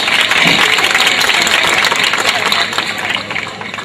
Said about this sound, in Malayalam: എല്ലാവരും കൈയടിച്ച് പ്രോത്സാഹിപ്പിക്കണം. ഒന്ന് കൈയടിക്കും.